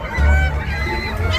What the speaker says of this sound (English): The birds are so happy